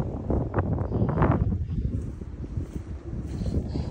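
Steady wind gusting outdoors over a front yard torn up by wild hogs, a constant low rumble of microphone buffeting with rising and falling surges throughout.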